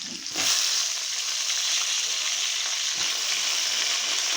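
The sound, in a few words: flat beans and eggplant frying together in oil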